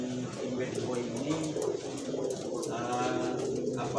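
Racing pigeons coo repeatedly at a pigeon-racing event on a lakeside field at Jakabaring, their soft calls running steadily beneath nearby people talking.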